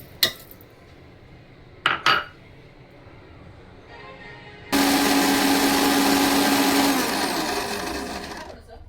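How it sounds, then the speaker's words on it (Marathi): Kitchen mixer grinder pulverising sesame seeds and peanuts, a loud steady motor whir that starts suddenly after a few clinks of handling and runs for about four seconds, easing slightly near the end. "तीळ आणि शेंगदाणे आहेत ना ते बारीक करून घेऊया मिक्सरमध्ये"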